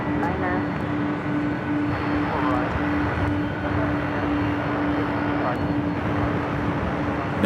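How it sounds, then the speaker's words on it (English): A Boeing 767 jet airliner roars steadily at LAX airport, a loud continuous engine rumble with a sustained tone, heard from nearby without a break. "You can hear that 767."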